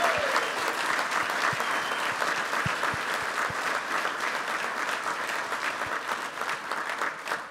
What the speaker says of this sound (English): a round of applause for all of the 2015 inductees to Colorado State Hall of Fame